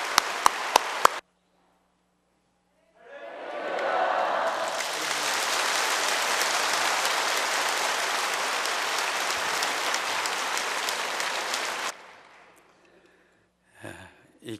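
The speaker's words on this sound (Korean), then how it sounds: "우리 크게 한번 박수 한번 하시겠습니다" Church congregation applauding visiting guests at an Easter service, a long, dense, steady round of clapping filling the room for about nine seconds, preceded by a few sharp taps and followed by quiet.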